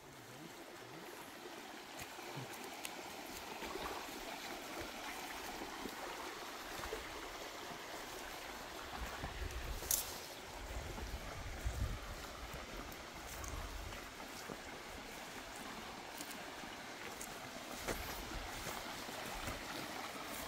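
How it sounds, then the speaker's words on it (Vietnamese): A small forest stream flows steadily near a fern-lined bank. The water makes faint, continuous trickling and rushing from start to finish, with no voices. "Đi theo ven suối này."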